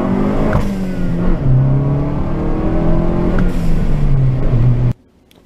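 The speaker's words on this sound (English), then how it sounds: "the car guy in me has to get some blow-off valve sound." A car engine revs steadily and loudly for about five seconds, its pitch rising and falling, then cuts off abruptly into near silence as a blow-off valve releases.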